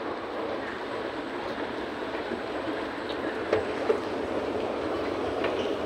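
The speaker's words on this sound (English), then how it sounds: "I will take purple line going to Harbor Front." A Singapore MRT purple line train rides toward Harbor Front, a steady rumbling interior roar with faint rail clicks and a couple of brief knocks, no talk.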